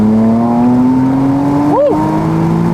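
A McLaren Artura Spider in sport mode accelerating after a manual downshift, its engine note climbing steadily and loud from inside the cabin, with a quick rev blip near the end.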